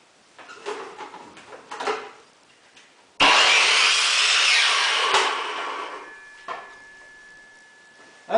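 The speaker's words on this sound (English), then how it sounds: "I have here my miter saw" A miter saw cuts through wood in a loud, sustained rasping buzz of about two seconds, preceded by lighter handling knocks and followed by a fading spin-down and a few clicks.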